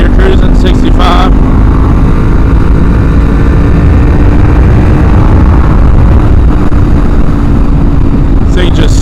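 Loud, constant roar of a Kawasaki Ninja 400 sport bike cruising in sixth gear at 65, a steady engine drone buried in heavy wind rush, close and unbroken.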